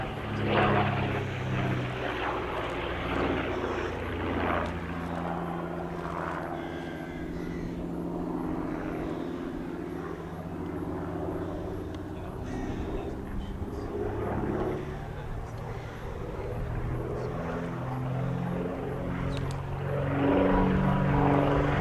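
A de Havilland DH.88 Comet racer at the Shuttleworth Season Air Show in May drones on with its propeller engines at moderate distance. The steady tone swells and fades, growing louder toward the end.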